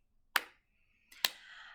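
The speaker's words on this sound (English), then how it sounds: "We're going to start to clap our hands." Two hands clap twice, crisp and close, about a second apart, each clap leaving a short ringing tail in a quiet room.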